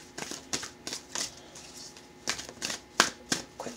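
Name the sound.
shuffling Crystal Visions tarot cards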